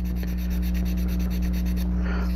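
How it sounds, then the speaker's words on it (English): A model kit part is wet sanded by hand, producing rapid, rhythmic rasping strokes close up over a steady background hum, then stopping. "Go through and sand every area, make sure it's real nice and smooth."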